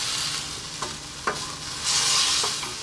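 Chicken and broccoli stir-fry with oyster sauce over high heat gives a continuous loud sizzle, broken by a few sharp scraping stirs of the pan and a swelling hiss near the end.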